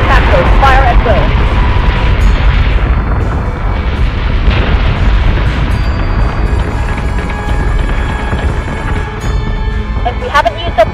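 Warship weapons firing and explosions in Battlestar Galactica Deadlock, a loud continuous barrage of rumbling booms and bursts, with voices talking over the battle.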